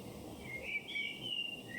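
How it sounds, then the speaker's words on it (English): A bird sound effect in a bedtime story set on a country walk past lavender fields: faint, thin chirps and whistled calls over a soft background, brief and fairly distant. "gazes off and notices a bird circling overhead,"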